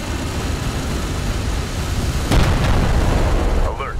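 A light attack vehicle is destroyed in the game Homeworld: Deserts of Kharak, a sudden booming blast over steady rumbling battle noise, followed by a short burst of radio chatter.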